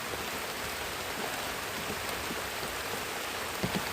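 Steady rain falls at night, a dense even patter on surfaces that fills the whole scene at moderate level with no voices.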